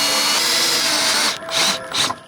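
A power drill whines steadily at close range, then cuts out and gives two short bursts as the trigger is pulsed.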